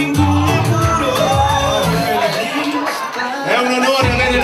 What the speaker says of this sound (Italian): Facciamone un applauso.